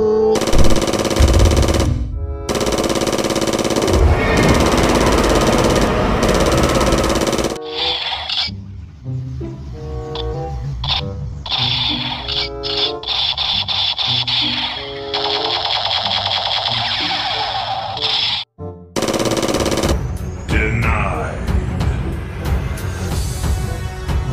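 Loud toy AK-47 firing sounds in long electronic bursts, with rattling effects and short pauses between volleys.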